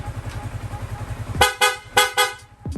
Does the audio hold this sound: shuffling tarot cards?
no